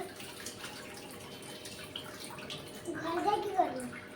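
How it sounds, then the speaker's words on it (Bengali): Tap water runs in a steady, moderate stream, swelling a little louder toward the end, with a faint voice mixed in. "অফ করো কলটাকে"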